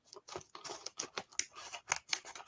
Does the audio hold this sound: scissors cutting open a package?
yes